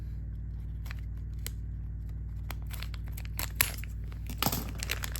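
Scissors snip open Beyblade X Dranzer Spiral starter pack packaging, with a series of small clicks and plastic crinkles over a steady low hum that build to a louder cluster near the end.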